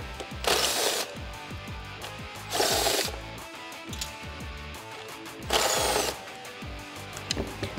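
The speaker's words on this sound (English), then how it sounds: "We're gonna take our impact gun with our 7 millimeter and remove these four screws." An impact gun fitted with a 7 mm socket drives out screws on a Jeep Wrangler JL front bumper, in three loud, close, whirring bursts of about half a second each, separated by quieter pauses and light clatter.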